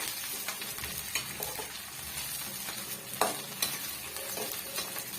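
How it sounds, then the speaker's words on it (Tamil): Green chillies sauté and splatter in a hot pan for a tamarind chilli thokku, with steady close sizzling broken by sharp pops and occasional stirring scrapes, and no voices. "இந்த மாதிரி செய்யும் போது மேலே வந்து தெரிச்சு விழும் கொஞ்சம் தூரமாக நின்று தான் நம்ம வதக்கி விட்டுக்கணும்"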